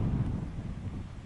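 Steady wind buffeting a microphone on a bright, windy afternoon in Honeymoon, Saskatchewan, a low rumbling roar with no other sounds.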